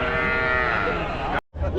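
Cattle low and moo amid the crowd at Namakkal's Wednesday livestock market, where cows, bulls and buffalo are traded; a sustained, loud, close bellow runs for over a second, breaks off briefly, then resumes.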